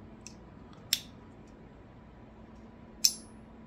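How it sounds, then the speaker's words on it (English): A front-flipper folding knife's lock clicking as the blade closes: two sharp, crisp clicks about two seconds apart plus a faint earlier tick, close up in a quiet room. "it makes a noise when you close it"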